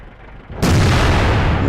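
A Rhm.-Borsig Waffenträger tank destroyer fires its main gun in World of Tanks: one sudden, loud, close blast after a quiet moment, followed by a heavy rumbling tail.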